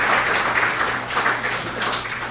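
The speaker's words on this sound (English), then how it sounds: "So give her another round of applause for" Audience applause at a women's cricket symposium, a steady wash of many hands clapping at moderate level with no speech over it.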